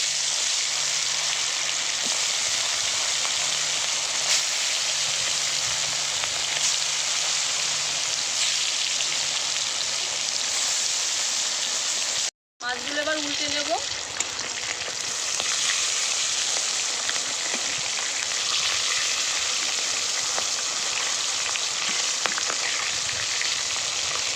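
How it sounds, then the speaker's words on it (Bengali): Rupchanda fish frying in hot mustard oil, a steady close sizzle and crackle that continues throughout, with one brief break midway before the frying noise resumes. "তেল গরম হয়ে গেছে এবার মাছগুলো ভেজে নেবো"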